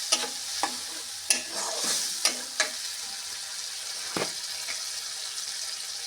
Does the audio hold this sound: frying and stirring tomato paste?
yes